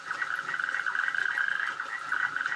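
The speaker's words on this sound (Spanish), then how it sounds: "Ronita de San Antón." European tree frogs croaking at a pond at night in the rain, a dense, steady chorus of rapid calls repeating without pause at moderate loudness.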